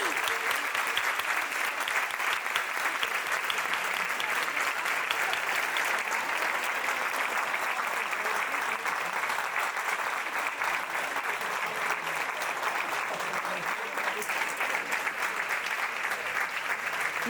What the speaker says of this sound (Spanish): Venga, un fuerte aplauso.